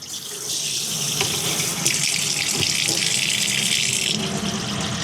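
Water runs steadily from an outdoor garden faucet with a hissing rush and splashing, close and continuous, briefly changing tone near the end.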